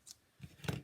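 Scissors trimming the long tails of paper card on a Z fold craft project: a few quick, soft snips close by and fairly faint, with no talking.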